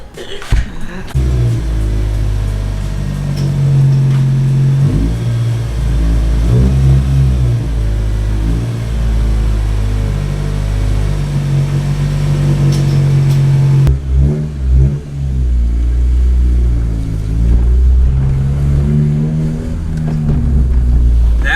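A car with no working power steering runs with its engine droning and revving loudly throughout as it drives, a steady close rumble with rises and dips in pitch.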